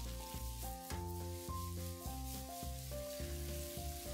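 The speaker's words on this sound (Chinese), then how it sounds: "然后放入蒜蓉豆豉兜匀， 再放入鱿鱼，将材料兜匀" Squid stir-fried in a wok with garlic and fermented black beans sizzles steadily in a continuous hiss, partly under louder background music.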